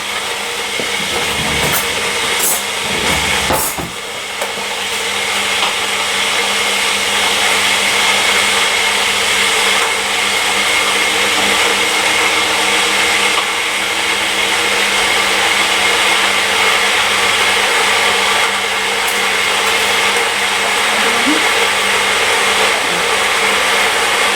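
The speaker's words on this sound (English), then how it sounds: "so I'm going to boil the kettle" An electric kettle heats water with a steady, loud broadband roar that holds nearly unchanged for the whole stretch, with a brief knock early on and no voices.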